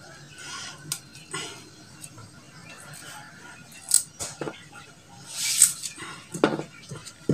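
Garlic sliced with a knife in a home kitchen, sparse light knife taps and clicks on a board mixed with occasional dish and utensil clatter, close and fairly quiet.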